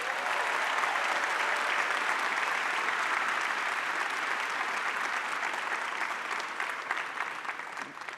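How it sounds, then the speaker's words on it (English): Sustained applause from a large university graduation ceremony audience, steady and dense clapping throughout, tapering slightly near the end. "Please join me in applauding our Master of Fine Arts graduates."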